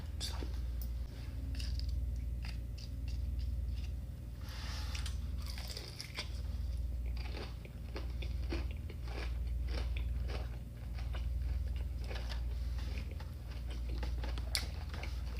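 Crunchy bites and steady chewing of a Dave's Hot Chicken spicy tender, close to the mic, over a low hum with occasional murmuring.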